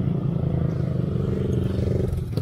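Honda Dream motorcycle engine running steadily during a group ride, a low continuous drone with a faint rattle that stays fairly constant throughout.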